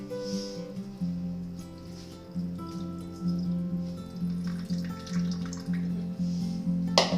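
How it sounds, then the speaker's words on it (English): Purple cabbage liquid poured into a jar of homemade sauerkraut, a steady close splashing and gurgling stream with a low hum underneath, no talking. "And let's pour this liquid in here."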